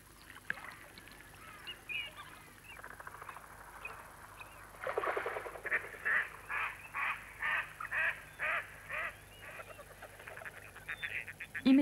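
A run of rhythmic honking calls from courting ducks in a reedbed in East Sussex, England, about eight evenly spaced bursts, moderately close over a quiet outdoor background.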